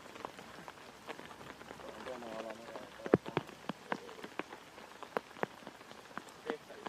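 Rain falls on a disc golf course during the Estonian Open 2022, a steady hiss scattered with sharp individual drop hits, with a voice talking faintly underneath.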